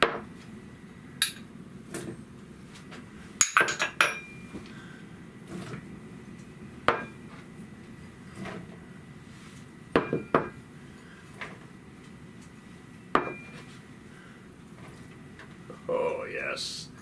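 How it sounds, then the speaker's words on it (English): Salad ingredients, beans and vegetables for a Mediterranean bean salad, tossed into a bowl in a kitchen, giving scattered light clatters and soft thumps across the stretch, with several sharper knocks of dish and utensil. "So let's just start throwing in the ingredients."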